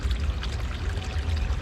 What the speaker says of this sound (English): clean water coming from here